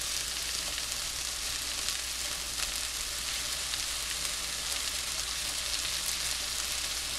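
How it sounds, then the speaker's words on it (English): Mushrooms sizzling and frying in a single layer in a pan, a steady close crackle with fine spattering pops throughout and no talking. "The mushrooms have been cooking for about 5-7 minutes maybe."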